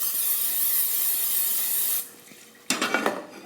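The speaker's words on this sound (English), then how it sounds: "I'm just going to spray it with pan spray real quick" A steady, close hiss of cooking spray onto a pan lasts about two seconds, stops, then a short burst of sizzling clatter follows.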